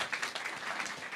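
An audience claps in a brief, soft burst of applause heard from a distance.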